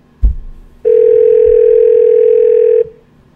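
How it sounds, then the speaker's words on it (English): A steady, loud ringback tone on a phone line while a call is placed to a prize winner. It holds unbroken for about two seconds after a brief knock, with no talk over it. "Phone's ringing."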